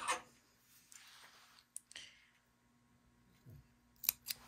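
Scissors snip into fabric cut on the fold while a boat neckline pattern is worked on, a few sharp, separate clicks and cuts spaced out across a quiet stretch, close by.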